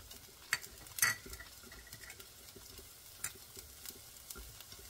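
Onion for a gravy sauce cooks in a pan, a soft low sizzle punctuated by clinks and scrapes of a utensil stirring it, quiet and close with no voices.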